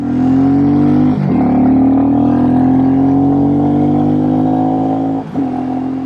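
A Royal Enfield Classic 350 motorcycle engine revs up loudly and holds a high, rising whine, dropping briefly twice between pulls on the throttle.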